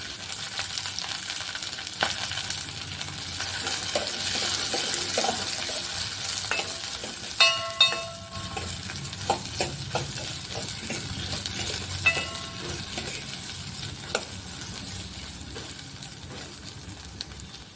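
Onion frying in a pan for a chutney to go with puri, a steady close sizzle punctuated by spoon clatter and scraping stir strokes, with no one talking.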